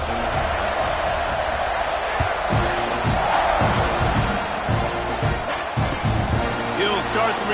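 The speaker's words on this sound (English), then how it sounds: "this crowd is buzzing after that last score" A college football stadium crowd buzzing with a broad, steady roar after a score, heard under a commentator's continuous play-by-play.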